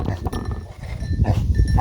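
Pigs on a homestead grunt and snuffle up close in a continuous low jumble, with a few clanking knocks mixed in.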